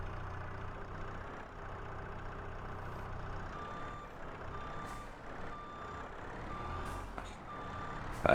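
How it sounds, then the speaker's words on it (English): A skid steer in Farming Simulator 22 sounds repeated reversing beeps over its steady, low idling engine, the alarm tones pulsing evenly and fairly faint throughout. "Now back into the skid steer."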